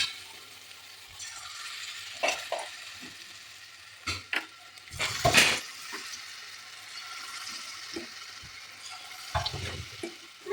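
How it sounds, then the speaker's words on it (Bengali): Cauliflower fritters frying in hot oil give a steady close sizzle, broken by several louder bursts of spatter and clatter as pieces are added and stirred; no one speaks. "আমি এখন ফুলকপির বড়া করিলি"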